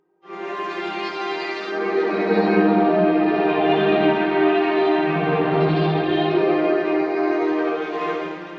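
Sustained chamber strings from a Kontakt sample library with delay and reverb effects ring out with a washy, echoing tail, the chord held smoothly for several seconds and fading slightly at the end.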